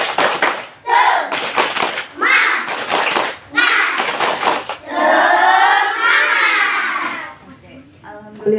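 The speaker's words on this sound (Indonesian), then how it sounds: "Tepuk semangat." A group performs a rhythmic spirit clap at an Islamic gathering, with bursts of sharp, patterned hand claps and chanted children's voices between them, followed by a longer stretch of group chanting.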